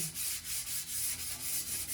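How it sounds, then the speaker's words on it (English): Rusty metal gets a light hand sanding before priming, rhythmic back-and-forth rasping strokes repeating at a steady pace, close and fairly loud with no talking. "Okay, here we go with the sanding."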